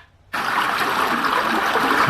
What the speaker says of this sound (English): More water sounds? A stream, maybe?